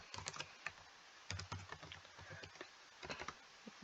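Keys clatter on a computer keyboard while Python code is written, irregular bursts of quick clicks with short pauses between, close and fairly crisp, no one speaking.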